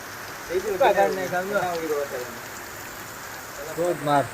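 Heavy morning rain pours down as a steady wash of patter, with a voice talking over it near the start and again at the end.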